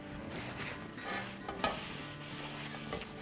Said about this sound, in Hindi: इसको वाइप कर लेते हैं।